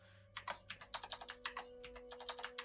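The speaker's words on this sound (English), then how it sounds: "the typing is real" Rapid typing on a computer keyboard, with clusters of crisp key clicks in an uneven rhythm, close and clear over a faint steady electrical hum.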